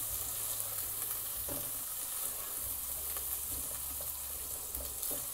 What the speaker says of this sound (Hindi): अदरक डाल के थोड़ा सा इसको 1 मिनट के लिए फ्राई करेंगे।